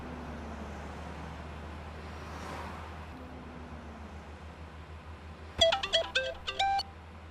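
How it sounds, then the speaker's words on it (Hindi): Phone ringtone chirping in a short patterned burst near the end, over a low steady hum of distant road traffic. "डीजीपी को फोन लगाओ"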